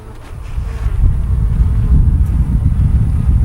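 Honeybees hum low and close around an open nuc hive, a dense steady buzz muffled by breezy wind rumble on the microphone.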